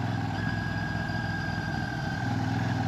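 A Royal Enfield Shotgun motorcycle engine runs steadily nearby, a loud continuous low thrum with a constant mechanical hum and no change in revs, heard alone without speech.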